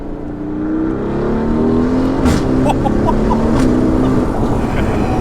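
A Mercedes-AMG A35 engine revs up and accelerates, a loud rising roar with gear changes, close by and continuous with no one speaking.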